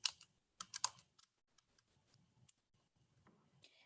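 Keys tapped on a computer keyboard while entering a label into an Excel spreadsheet, a quick cluster of sharp clicks followed by sparser, fainter taps close to the microphone.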